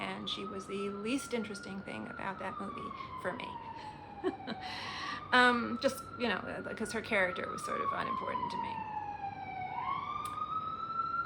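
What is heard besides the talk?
emergency vehicle sirens in city street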